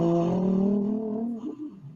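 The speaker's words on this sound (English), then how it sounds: "That's just a car going by" A car drives past close by outdoors, its engine hum loud at first and then sliding lower in pitch as it moves away, fading over about two seconds.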